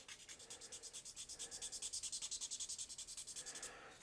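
Hand sanding on a car body being refinished in a Martini Racing style, with quick, even rasping back-and-forth strokes, close and fairly faint, running steadily before stopping near the end.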